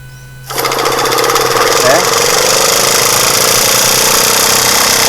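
A modified generator (genset) engine kicks into life after a brief quiet start, then runs steadily and loudly at a constant buzzing pace, filling the rest of the clip.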